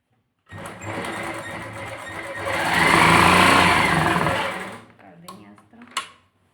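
An electric sewing machine stitches a back neck seam on a garment, whirring steadily and close, rising to full speed in the middle and then slowing and stopping. A voice talks briefly near the end.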